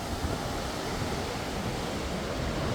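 Bow Falls in Canada with a strong river current rushing past, a dense continuous roar of water close by, loud and unbroken with no voices.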